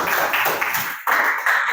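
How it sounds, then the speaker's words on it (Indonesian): Classroom applause for a student group, a short burst of many hands clapping together, close and fairly loud, fading briefly before swelling again. "kita beri tepuk tangan untuk kelompok 3"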